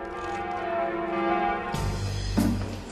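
The large bells of Notre Dame ring out with rich, sustained tones that overlap and shimmer, a deep heavy strike joining partway through.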